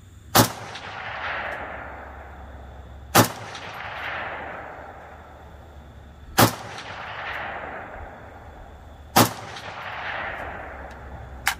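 An M+M M10 rifle with an Attero Arms Bravo mount is sighted in at 50 yards at an outdoor range. Four loud, sharp shots fire several seconds apart, and each one rings out into a long fading echo.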